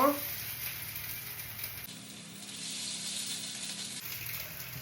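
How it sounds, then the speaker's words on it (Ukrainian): Potato pancakes (deruny) frying in a generous layer of oil, almost deep-fried, giving a steady close-up sizzle and hiss that carries on with little change in level. "коли воно жариться як у фрітюрі, то хрусткіший же ж виходить дирунчик"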